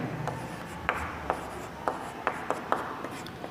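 Pen writing on paper while working a geometry problem, a soft continuous scratching with sharp little taps as strokes start and end, close and quiet.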